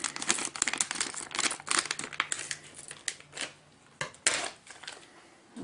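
Sealed packaging around a Western Digital hard drive is cut open, producing bursts of crinkling plastic and rustling wrap with irregular sharp crackles, close and fairly loud.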